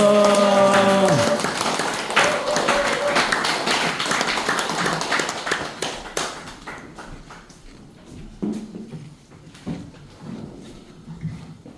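An audience bursts into dense applause to welcome party leader Song Young-gil at a gathering in Yeongam. The clapping is loud at first, then thins and fades into scattered claps, with a brief voice at the start.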